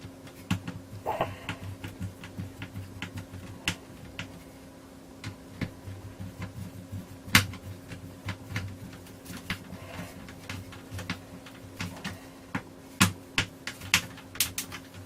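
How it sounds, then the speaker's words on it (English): Small screws being driven back into a hedge trimmer casing with a hand screwdriver, heard as faint, close, irregular clicks and ticks over quiet background hum. "Put the screws back in. Screwdriver."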